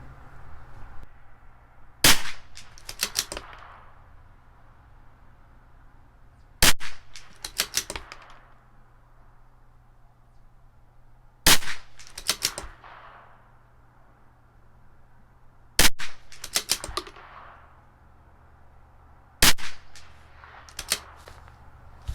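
A CZ 457 LRP rifle with an IBI barrel fires five Sellier & Bellot Canadian Match rounds at a 100-yard range, each sharp crack spaced several seconds apart and followed by the click and clack of working the bolt.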